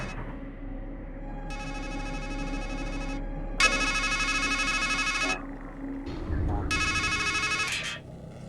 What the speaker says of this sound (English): Then a phone rings